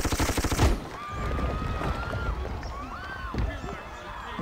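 A short burst of rapid machine-gun fire from the video game Civilization V rattles at the start, then fades into background noise with a voice talking over it.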